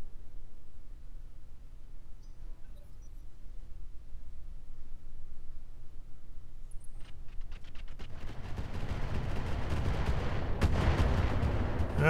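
Gunfire in the Roguetech mech combat game starts as scattered faint cracks, then builds into a loud, rumbling barrage of rapid shots and booming impacts over the second half.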